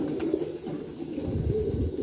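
Racing pigeons cooing nearby, a low, soft, continuous burbling coo with repeated rolling notes and no talk over it.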